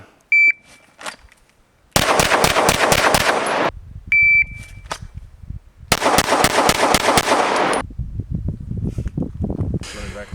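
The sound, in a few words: handgun shots fired in shooting drill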